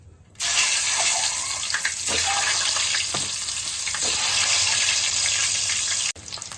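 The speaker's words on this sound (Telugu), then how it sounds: "కొంచెం పసుపు వేసుకొని గుడ్లకి ఇలా కాట్లు పెట్టుకొని వేపుకుందాం" Scored boiled eggs coated with turmeric fry in hot oil for egg biryani, giving a loud, steady, close sizzle that starts abruptly and runs for about six seconds before cutting off, with faint stirring clinks.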